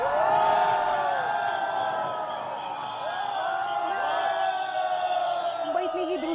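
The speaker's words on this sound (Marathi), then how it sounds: "ज्या क्षणी हे मशीन दिसू लागलं त्या क्षणी कसा जल्लोष झाला तिथे जमलेल्या लोकांमधून कसा एकच आवाज झाला" A crowd gathered at a Mumbai Metro 3 tunnel breakthrough cheers and whoops as the boring machine emerges through hard rock, a dense sustained roar of many voices with shouts rising above it throughout.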